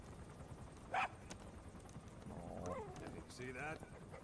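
D-Dog, the dog companion in the video game Metal Gear Solid V, gives a single short bark over faint background game sounds, followed by a voice speaking.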